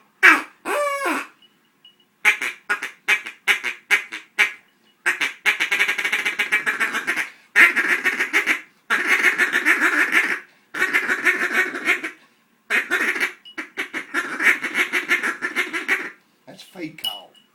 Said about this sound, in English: Feed call, and that's a good call when ducks are circling around, looking for a place to land.